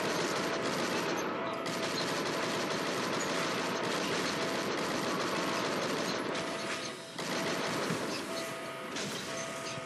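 Dense, sustained automatic gunfire from the Shank 2 video game rattles loudly and almost without pause for the full ten seconds, with a brief dip near the seventh second.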